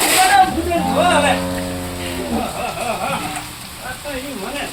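Heavy rain falls as a constant hiss and patter in the background while people talk loudly over it.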